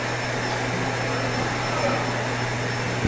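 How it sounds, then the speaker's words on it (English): A vacuum cleaner runs steadily in the background with a constant broadband whoosh and a low motor hum, unbroken for the whole stretch with no talk. "there's gonna be some vacuum noise in the background"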